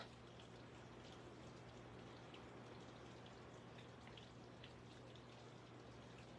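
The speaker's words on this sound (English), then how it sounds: "Oh, it sounds like it's raining outside." Steady rain patters outside with faint scattered drips, soft and distant, under a low constant hum.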